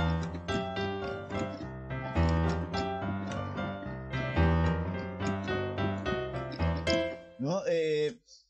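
Solo piano plays in New Orleans blues style, a lively rolling rhythm of chords and bass notes that continues steadily for several seconds, close and clear, ending with a brief flourish of higher notes.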